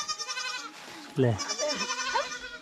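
Goats bleat in a rural Himalayan hill household setting, a few nasal calls rising over continuous nearby talking, fairly close and clear.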